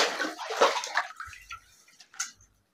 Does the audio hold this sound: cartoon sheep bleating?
no